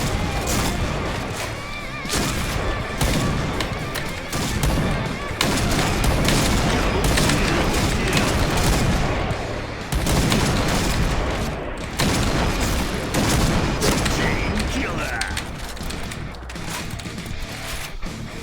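Gunfire and mechanical clatter in the online shooter Point Blank with a Kar98 rifle, dense continuous loud action noise with repeated shots, bolt and ratchet-like clicks and booms throughout.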